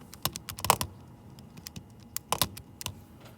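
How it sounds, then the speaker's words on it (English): Numbers are keyed into a calculator in a few quick clusters of crisp clicks separated by short pauses, close and fairly quiet. "When I type that into my calculator"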